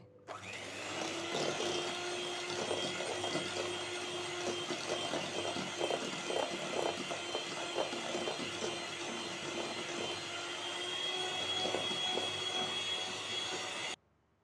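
An electric beater whirs steadily while whipping eggs and sugar into a foamy cupcake batter, a continuous close motor drone with faint rattling of the beaters against the bowl, stopping abruptly at the end.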